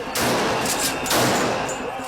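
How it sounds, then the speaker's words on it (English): Police fire tear gas and rubber bullets at protesters during a Kenyan street protest, heard as a dense, loud crackling roar of blasts and crowd noise that swells twice over a couple of seconds. "Tear gas and rubber bullets hound the protesters."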